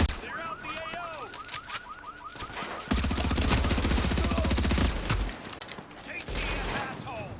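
Gunfire in the video game The Division erupts as a dense, sustained burst of rapid shots, loud and close, followed by scattered shots, with voices shouting over it at the start.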